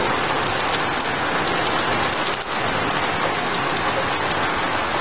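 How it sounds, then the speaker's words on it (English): Torrential tropical rain pours during a southeast Queensland thunderstorm, a dense, loud, continuous hiss of heavy downpour drumming on surfaces without a break. "So this might be quite tropical, torrential tropical, meaning very intense rainfall."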